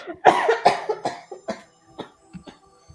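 A woman coughs repeatedly in harsh, close bursts, the fits gradually weakening into smaller, softer coughs.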